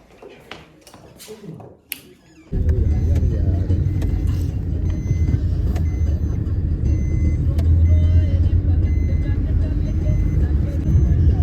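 A car starts moving off after a few brief taps and clicks, its engine settling into a steady low hum that fills the rest of the stretch at close range, with no talk over it.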